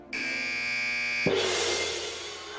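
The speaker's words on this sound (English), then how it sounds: "that's the final buzzer" A quiz show's final buzzer sounds, a loud sustained electronic drone that holds for about a second before shifting into a brighter, noisier tone that fades slowly.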